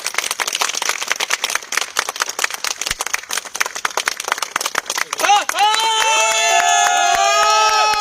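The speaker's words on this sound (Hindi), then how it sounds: "एक बार जोरदार ताली हो जाए।" Crowd at an office car achievement celebration erupts in loud clapping and cheering for several seconds, dense and close, before a tonal whistling or trumpet-like party sound swells in near the end.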